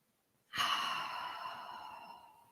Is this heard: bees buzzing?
no